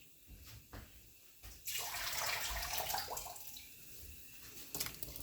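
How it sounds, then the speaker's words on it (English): Water pours and splashes as it is drained from peeled, washed pumpkin pieces in a kitchen, a rushing gush that rises suddenly, runs for a few seconds and then tapers into drips. "I'm just gonna drain out the water, put it in here."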